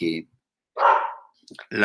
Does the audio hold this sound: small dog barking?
yes